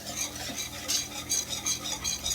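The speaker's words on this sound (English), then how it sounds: "So I'm gonna whisk this." A whisk rhythmically scrapes and clinks against a pan while flour is beaten into a cheddar sauce base over medium-high heat, the strokes steady and close, with faint sizzling beneath.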